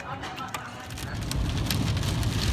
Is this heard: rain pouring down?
yes